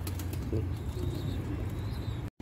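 A pigeon coos low and soft, close by, over a steady low outdoor rumble on a scorching 43-degree day, with no voices.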